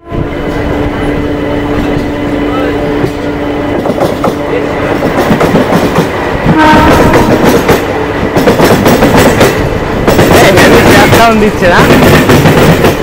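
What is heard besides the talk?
local train departing Barasat Junction towards Bongaon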